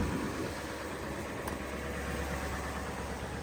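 A Ford 7.3 diesel engine idles high in a pickup truck, a steady, dense rumble that holds even and loud throughout, with no voices.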